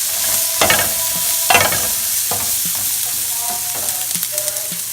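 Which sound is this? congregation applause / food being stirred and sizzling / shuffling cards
food being stirred and sizzling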